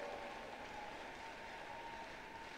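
A church congregation applauds in a steady, dense wash of clapping that holds at an even level throughout, with no voices standing out.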